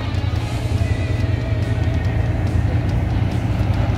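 A 2021 Ford Bronco crawls off-road over rocks on the Hell's Revenge trail, its engine a steady, loud low rumble held throughout with no break.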